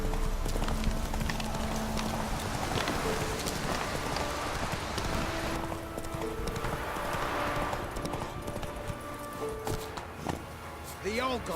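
Hooves of Roach, the horse in The Witcher 3 video game, clip-clopping in a steady running rhythm, moderately loud, with voices talking at times over the hoofbeats.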